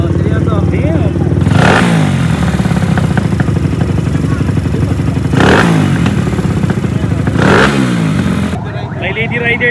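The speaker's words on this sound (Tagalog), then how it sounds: "Maingay ba yung motor mo, ma'am?" A loud 250 cc motorcycle engine runs steadily nearby, with a few sharp revving bursts rising and falling over a constant low rumble.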